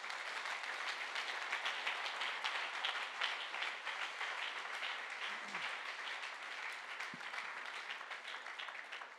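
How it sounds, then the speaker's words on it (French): A church congregation applauds and cheers during a French-language service, steady dense clapping heard from a distance with crowd voices mixed in, continuing evenly throughout. "Est-ce que quelqu'un peut donner une offrande d'acclamation à Jésus?"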